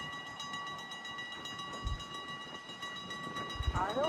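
A steady rumble of a train with faint clanking and a sustained tonal whine, plus a couple of low thumps, heard at moderate distance without speech.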